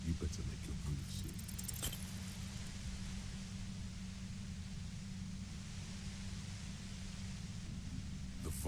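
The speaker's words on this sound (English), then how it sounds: "The violent white noise becomes even more overwhelming closer to the compressor." Compressor in the Disco Elysium video game, a loud, steady hiss of white noise with a low hum underneath, continuous for the whole stretch, with a few faint metallic clinks early on.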